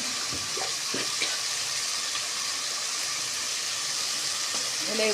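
Drumstick leaves sauté in a pan for sambar, giving a steady, soft sizzle throughout with a few faint scraping or stirring sounds near the start and end.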